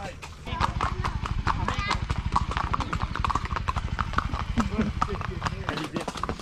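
Horse hooves clip-clopping in a fast, even rhythm during a horseback ride in southern Colombia, close and continuous throughout, with a person speaking over them.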